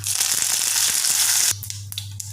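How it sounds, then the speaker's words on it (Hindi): Mustard seeds and curry leaves crackle and sizzle in about three tablespoons of hot oil in a kadai, a loud steady hiss that drops suddenly to softer, scattered popping. "कढ़ाई में 2 टेबल स्पून या 3 तेल डालेंगे। इसमें राई करी पत्ता डाल देंगे थोड़ा सा।"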